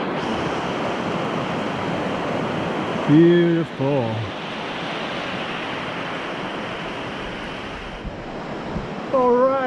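Rushing river water in the Narrows of Zion National Park, a steady broadband roar of flowing current filling the whole clip, with a person briefly speaking over it.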